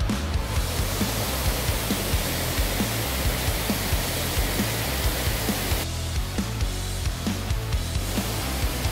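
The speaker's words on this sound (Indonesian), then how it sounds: "Beberapa meter setelah menyeberang sungai, kami menemukan air terjun di Wumbai." Steady, full rush of a waterfall on Moyo Island, Indonesia, loud and continuous, with faint rhythmic clicks beneath the roar.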